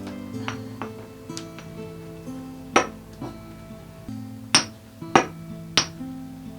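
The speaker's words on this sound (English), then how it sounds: "let's put the raisins in with the egg yolks and actually pound this down a little bit" Pestle pounding raisins and egg yolks in a mortar, giving sharp clinking strikes at an uneven rhythm, close and fairly loud, over steady low background hum.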